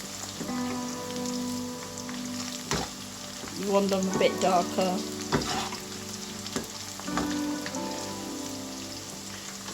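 Onions deep-frying in hot oil, a dense continuous sizzle and crackle up close, with a person speaking briefly over it.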